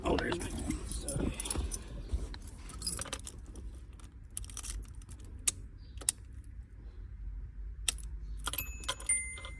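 A set of car keys jangles in quick metallic bursts near the end while working on a Z31, following rustling and handling noise, with someone speaking at times.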